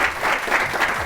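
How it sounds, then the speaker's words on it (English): At the grand finale of a debate show, the audience gives the winning debater another round of applause: a short burst of dense, close clapping that swells in quick waves. "One more round of applause for Jasjot."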